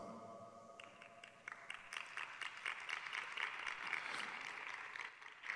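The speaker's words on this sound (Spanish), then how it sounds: "los aplausos suenan como si fueran muchísimos" Applause from a small crowd at a humanitarian aid gathering in Mérida, a steady patter of many hands clapping that builds after a quieter start and carries on throughout at moderate volume with no speech.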